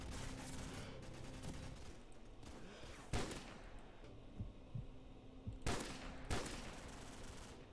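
Sniper rifle gunfire in the Modern Warfare video game, a few sharp loud shots spaced a couple of seconds apart over a steady low background hum and rumble.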